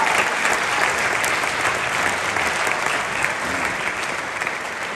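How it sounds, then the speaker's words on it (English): An audience at a Johnston freshman chamber choir winter concert applauds: dense, continuous clapping from a large crowd fills the room for the whole stretch, loud and steady, fading slightly at the end. "Can we give them one more round of applause?"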